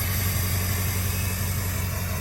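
A 2002 7.3 crew cab truck with a new 4-inch exhaust idles nearby, giving a steady, deep, even rumble with no gaps and no talk.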